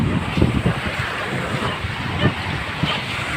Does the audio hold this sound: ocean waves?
yes